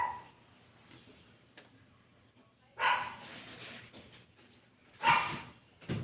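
A dog barking and whimpering nearby, with soft whines early on, then two loud sharp barks a couple of seconds apart and another starting at the end, over a quiet indoor background.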